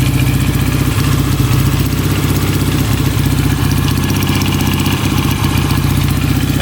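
A rare 1968 British motorcycle, brought back after sitting over forty years, runs loud and close with a steady, clattery engine note and slight throttle swells, no talking.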